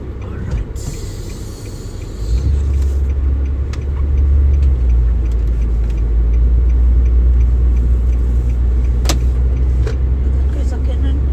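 Road traffic on a busy Friday street heard from inside a vehicle, a loud continuous low rumble that swells after a few seconds, with occasional ticks and clicks and a person talking.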